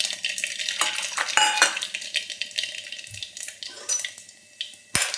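Mustard seeds, cumin and masala go into a hot pan for veg pulao, bringing crackling sizzle, clinking spoon and metal pan clatter, sharp knocks and brief splashes, close up and without speech.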